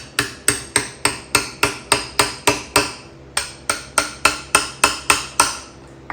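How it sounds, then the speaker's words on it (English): Steady metallic hammer strikes on a punch, knocking a gear onto a taper during Harley-Davidson Shovelhead bottom-end assembly, about fifteen sharp blows in an even rhythm with a short pause midway, loud and close. "knock this on with my trusty hammer and punch"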